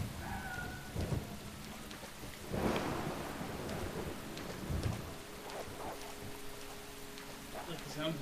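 Rain pours steadily in the horror video game Deadly Premonition, with a constant hiss and a few deep rumbles of thunder rolling through at intervals.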